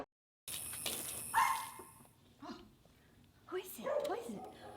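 A dog barks and whimpers in a horror film, several sharp yips and whines close to the microphone, with faint voices around it.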